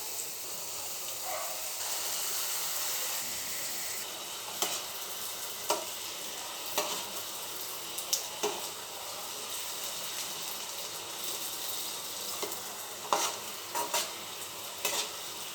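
Rice flour fingers deep frying in hot oil give a continuous bubbling sizzle, with occasional clinks and stirring knocks of a utensil against the pan.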